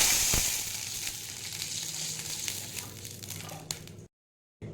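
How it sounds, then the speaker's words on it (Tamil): Sizzling burst as water hits a hot pan of oil with popped mustard seeds, loud at first and easing into a steady crackling hiss for about four seconds before cutting off. "இப்போ தண்ணி சேர்த்துக்கலாம்."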